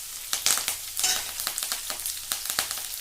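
Chopped onion, curry leaves and dried red chilies sauté in a hot pan, crackling and sizzling steadily with sharp spattering pops and occasional stirring scrapes, close and alone.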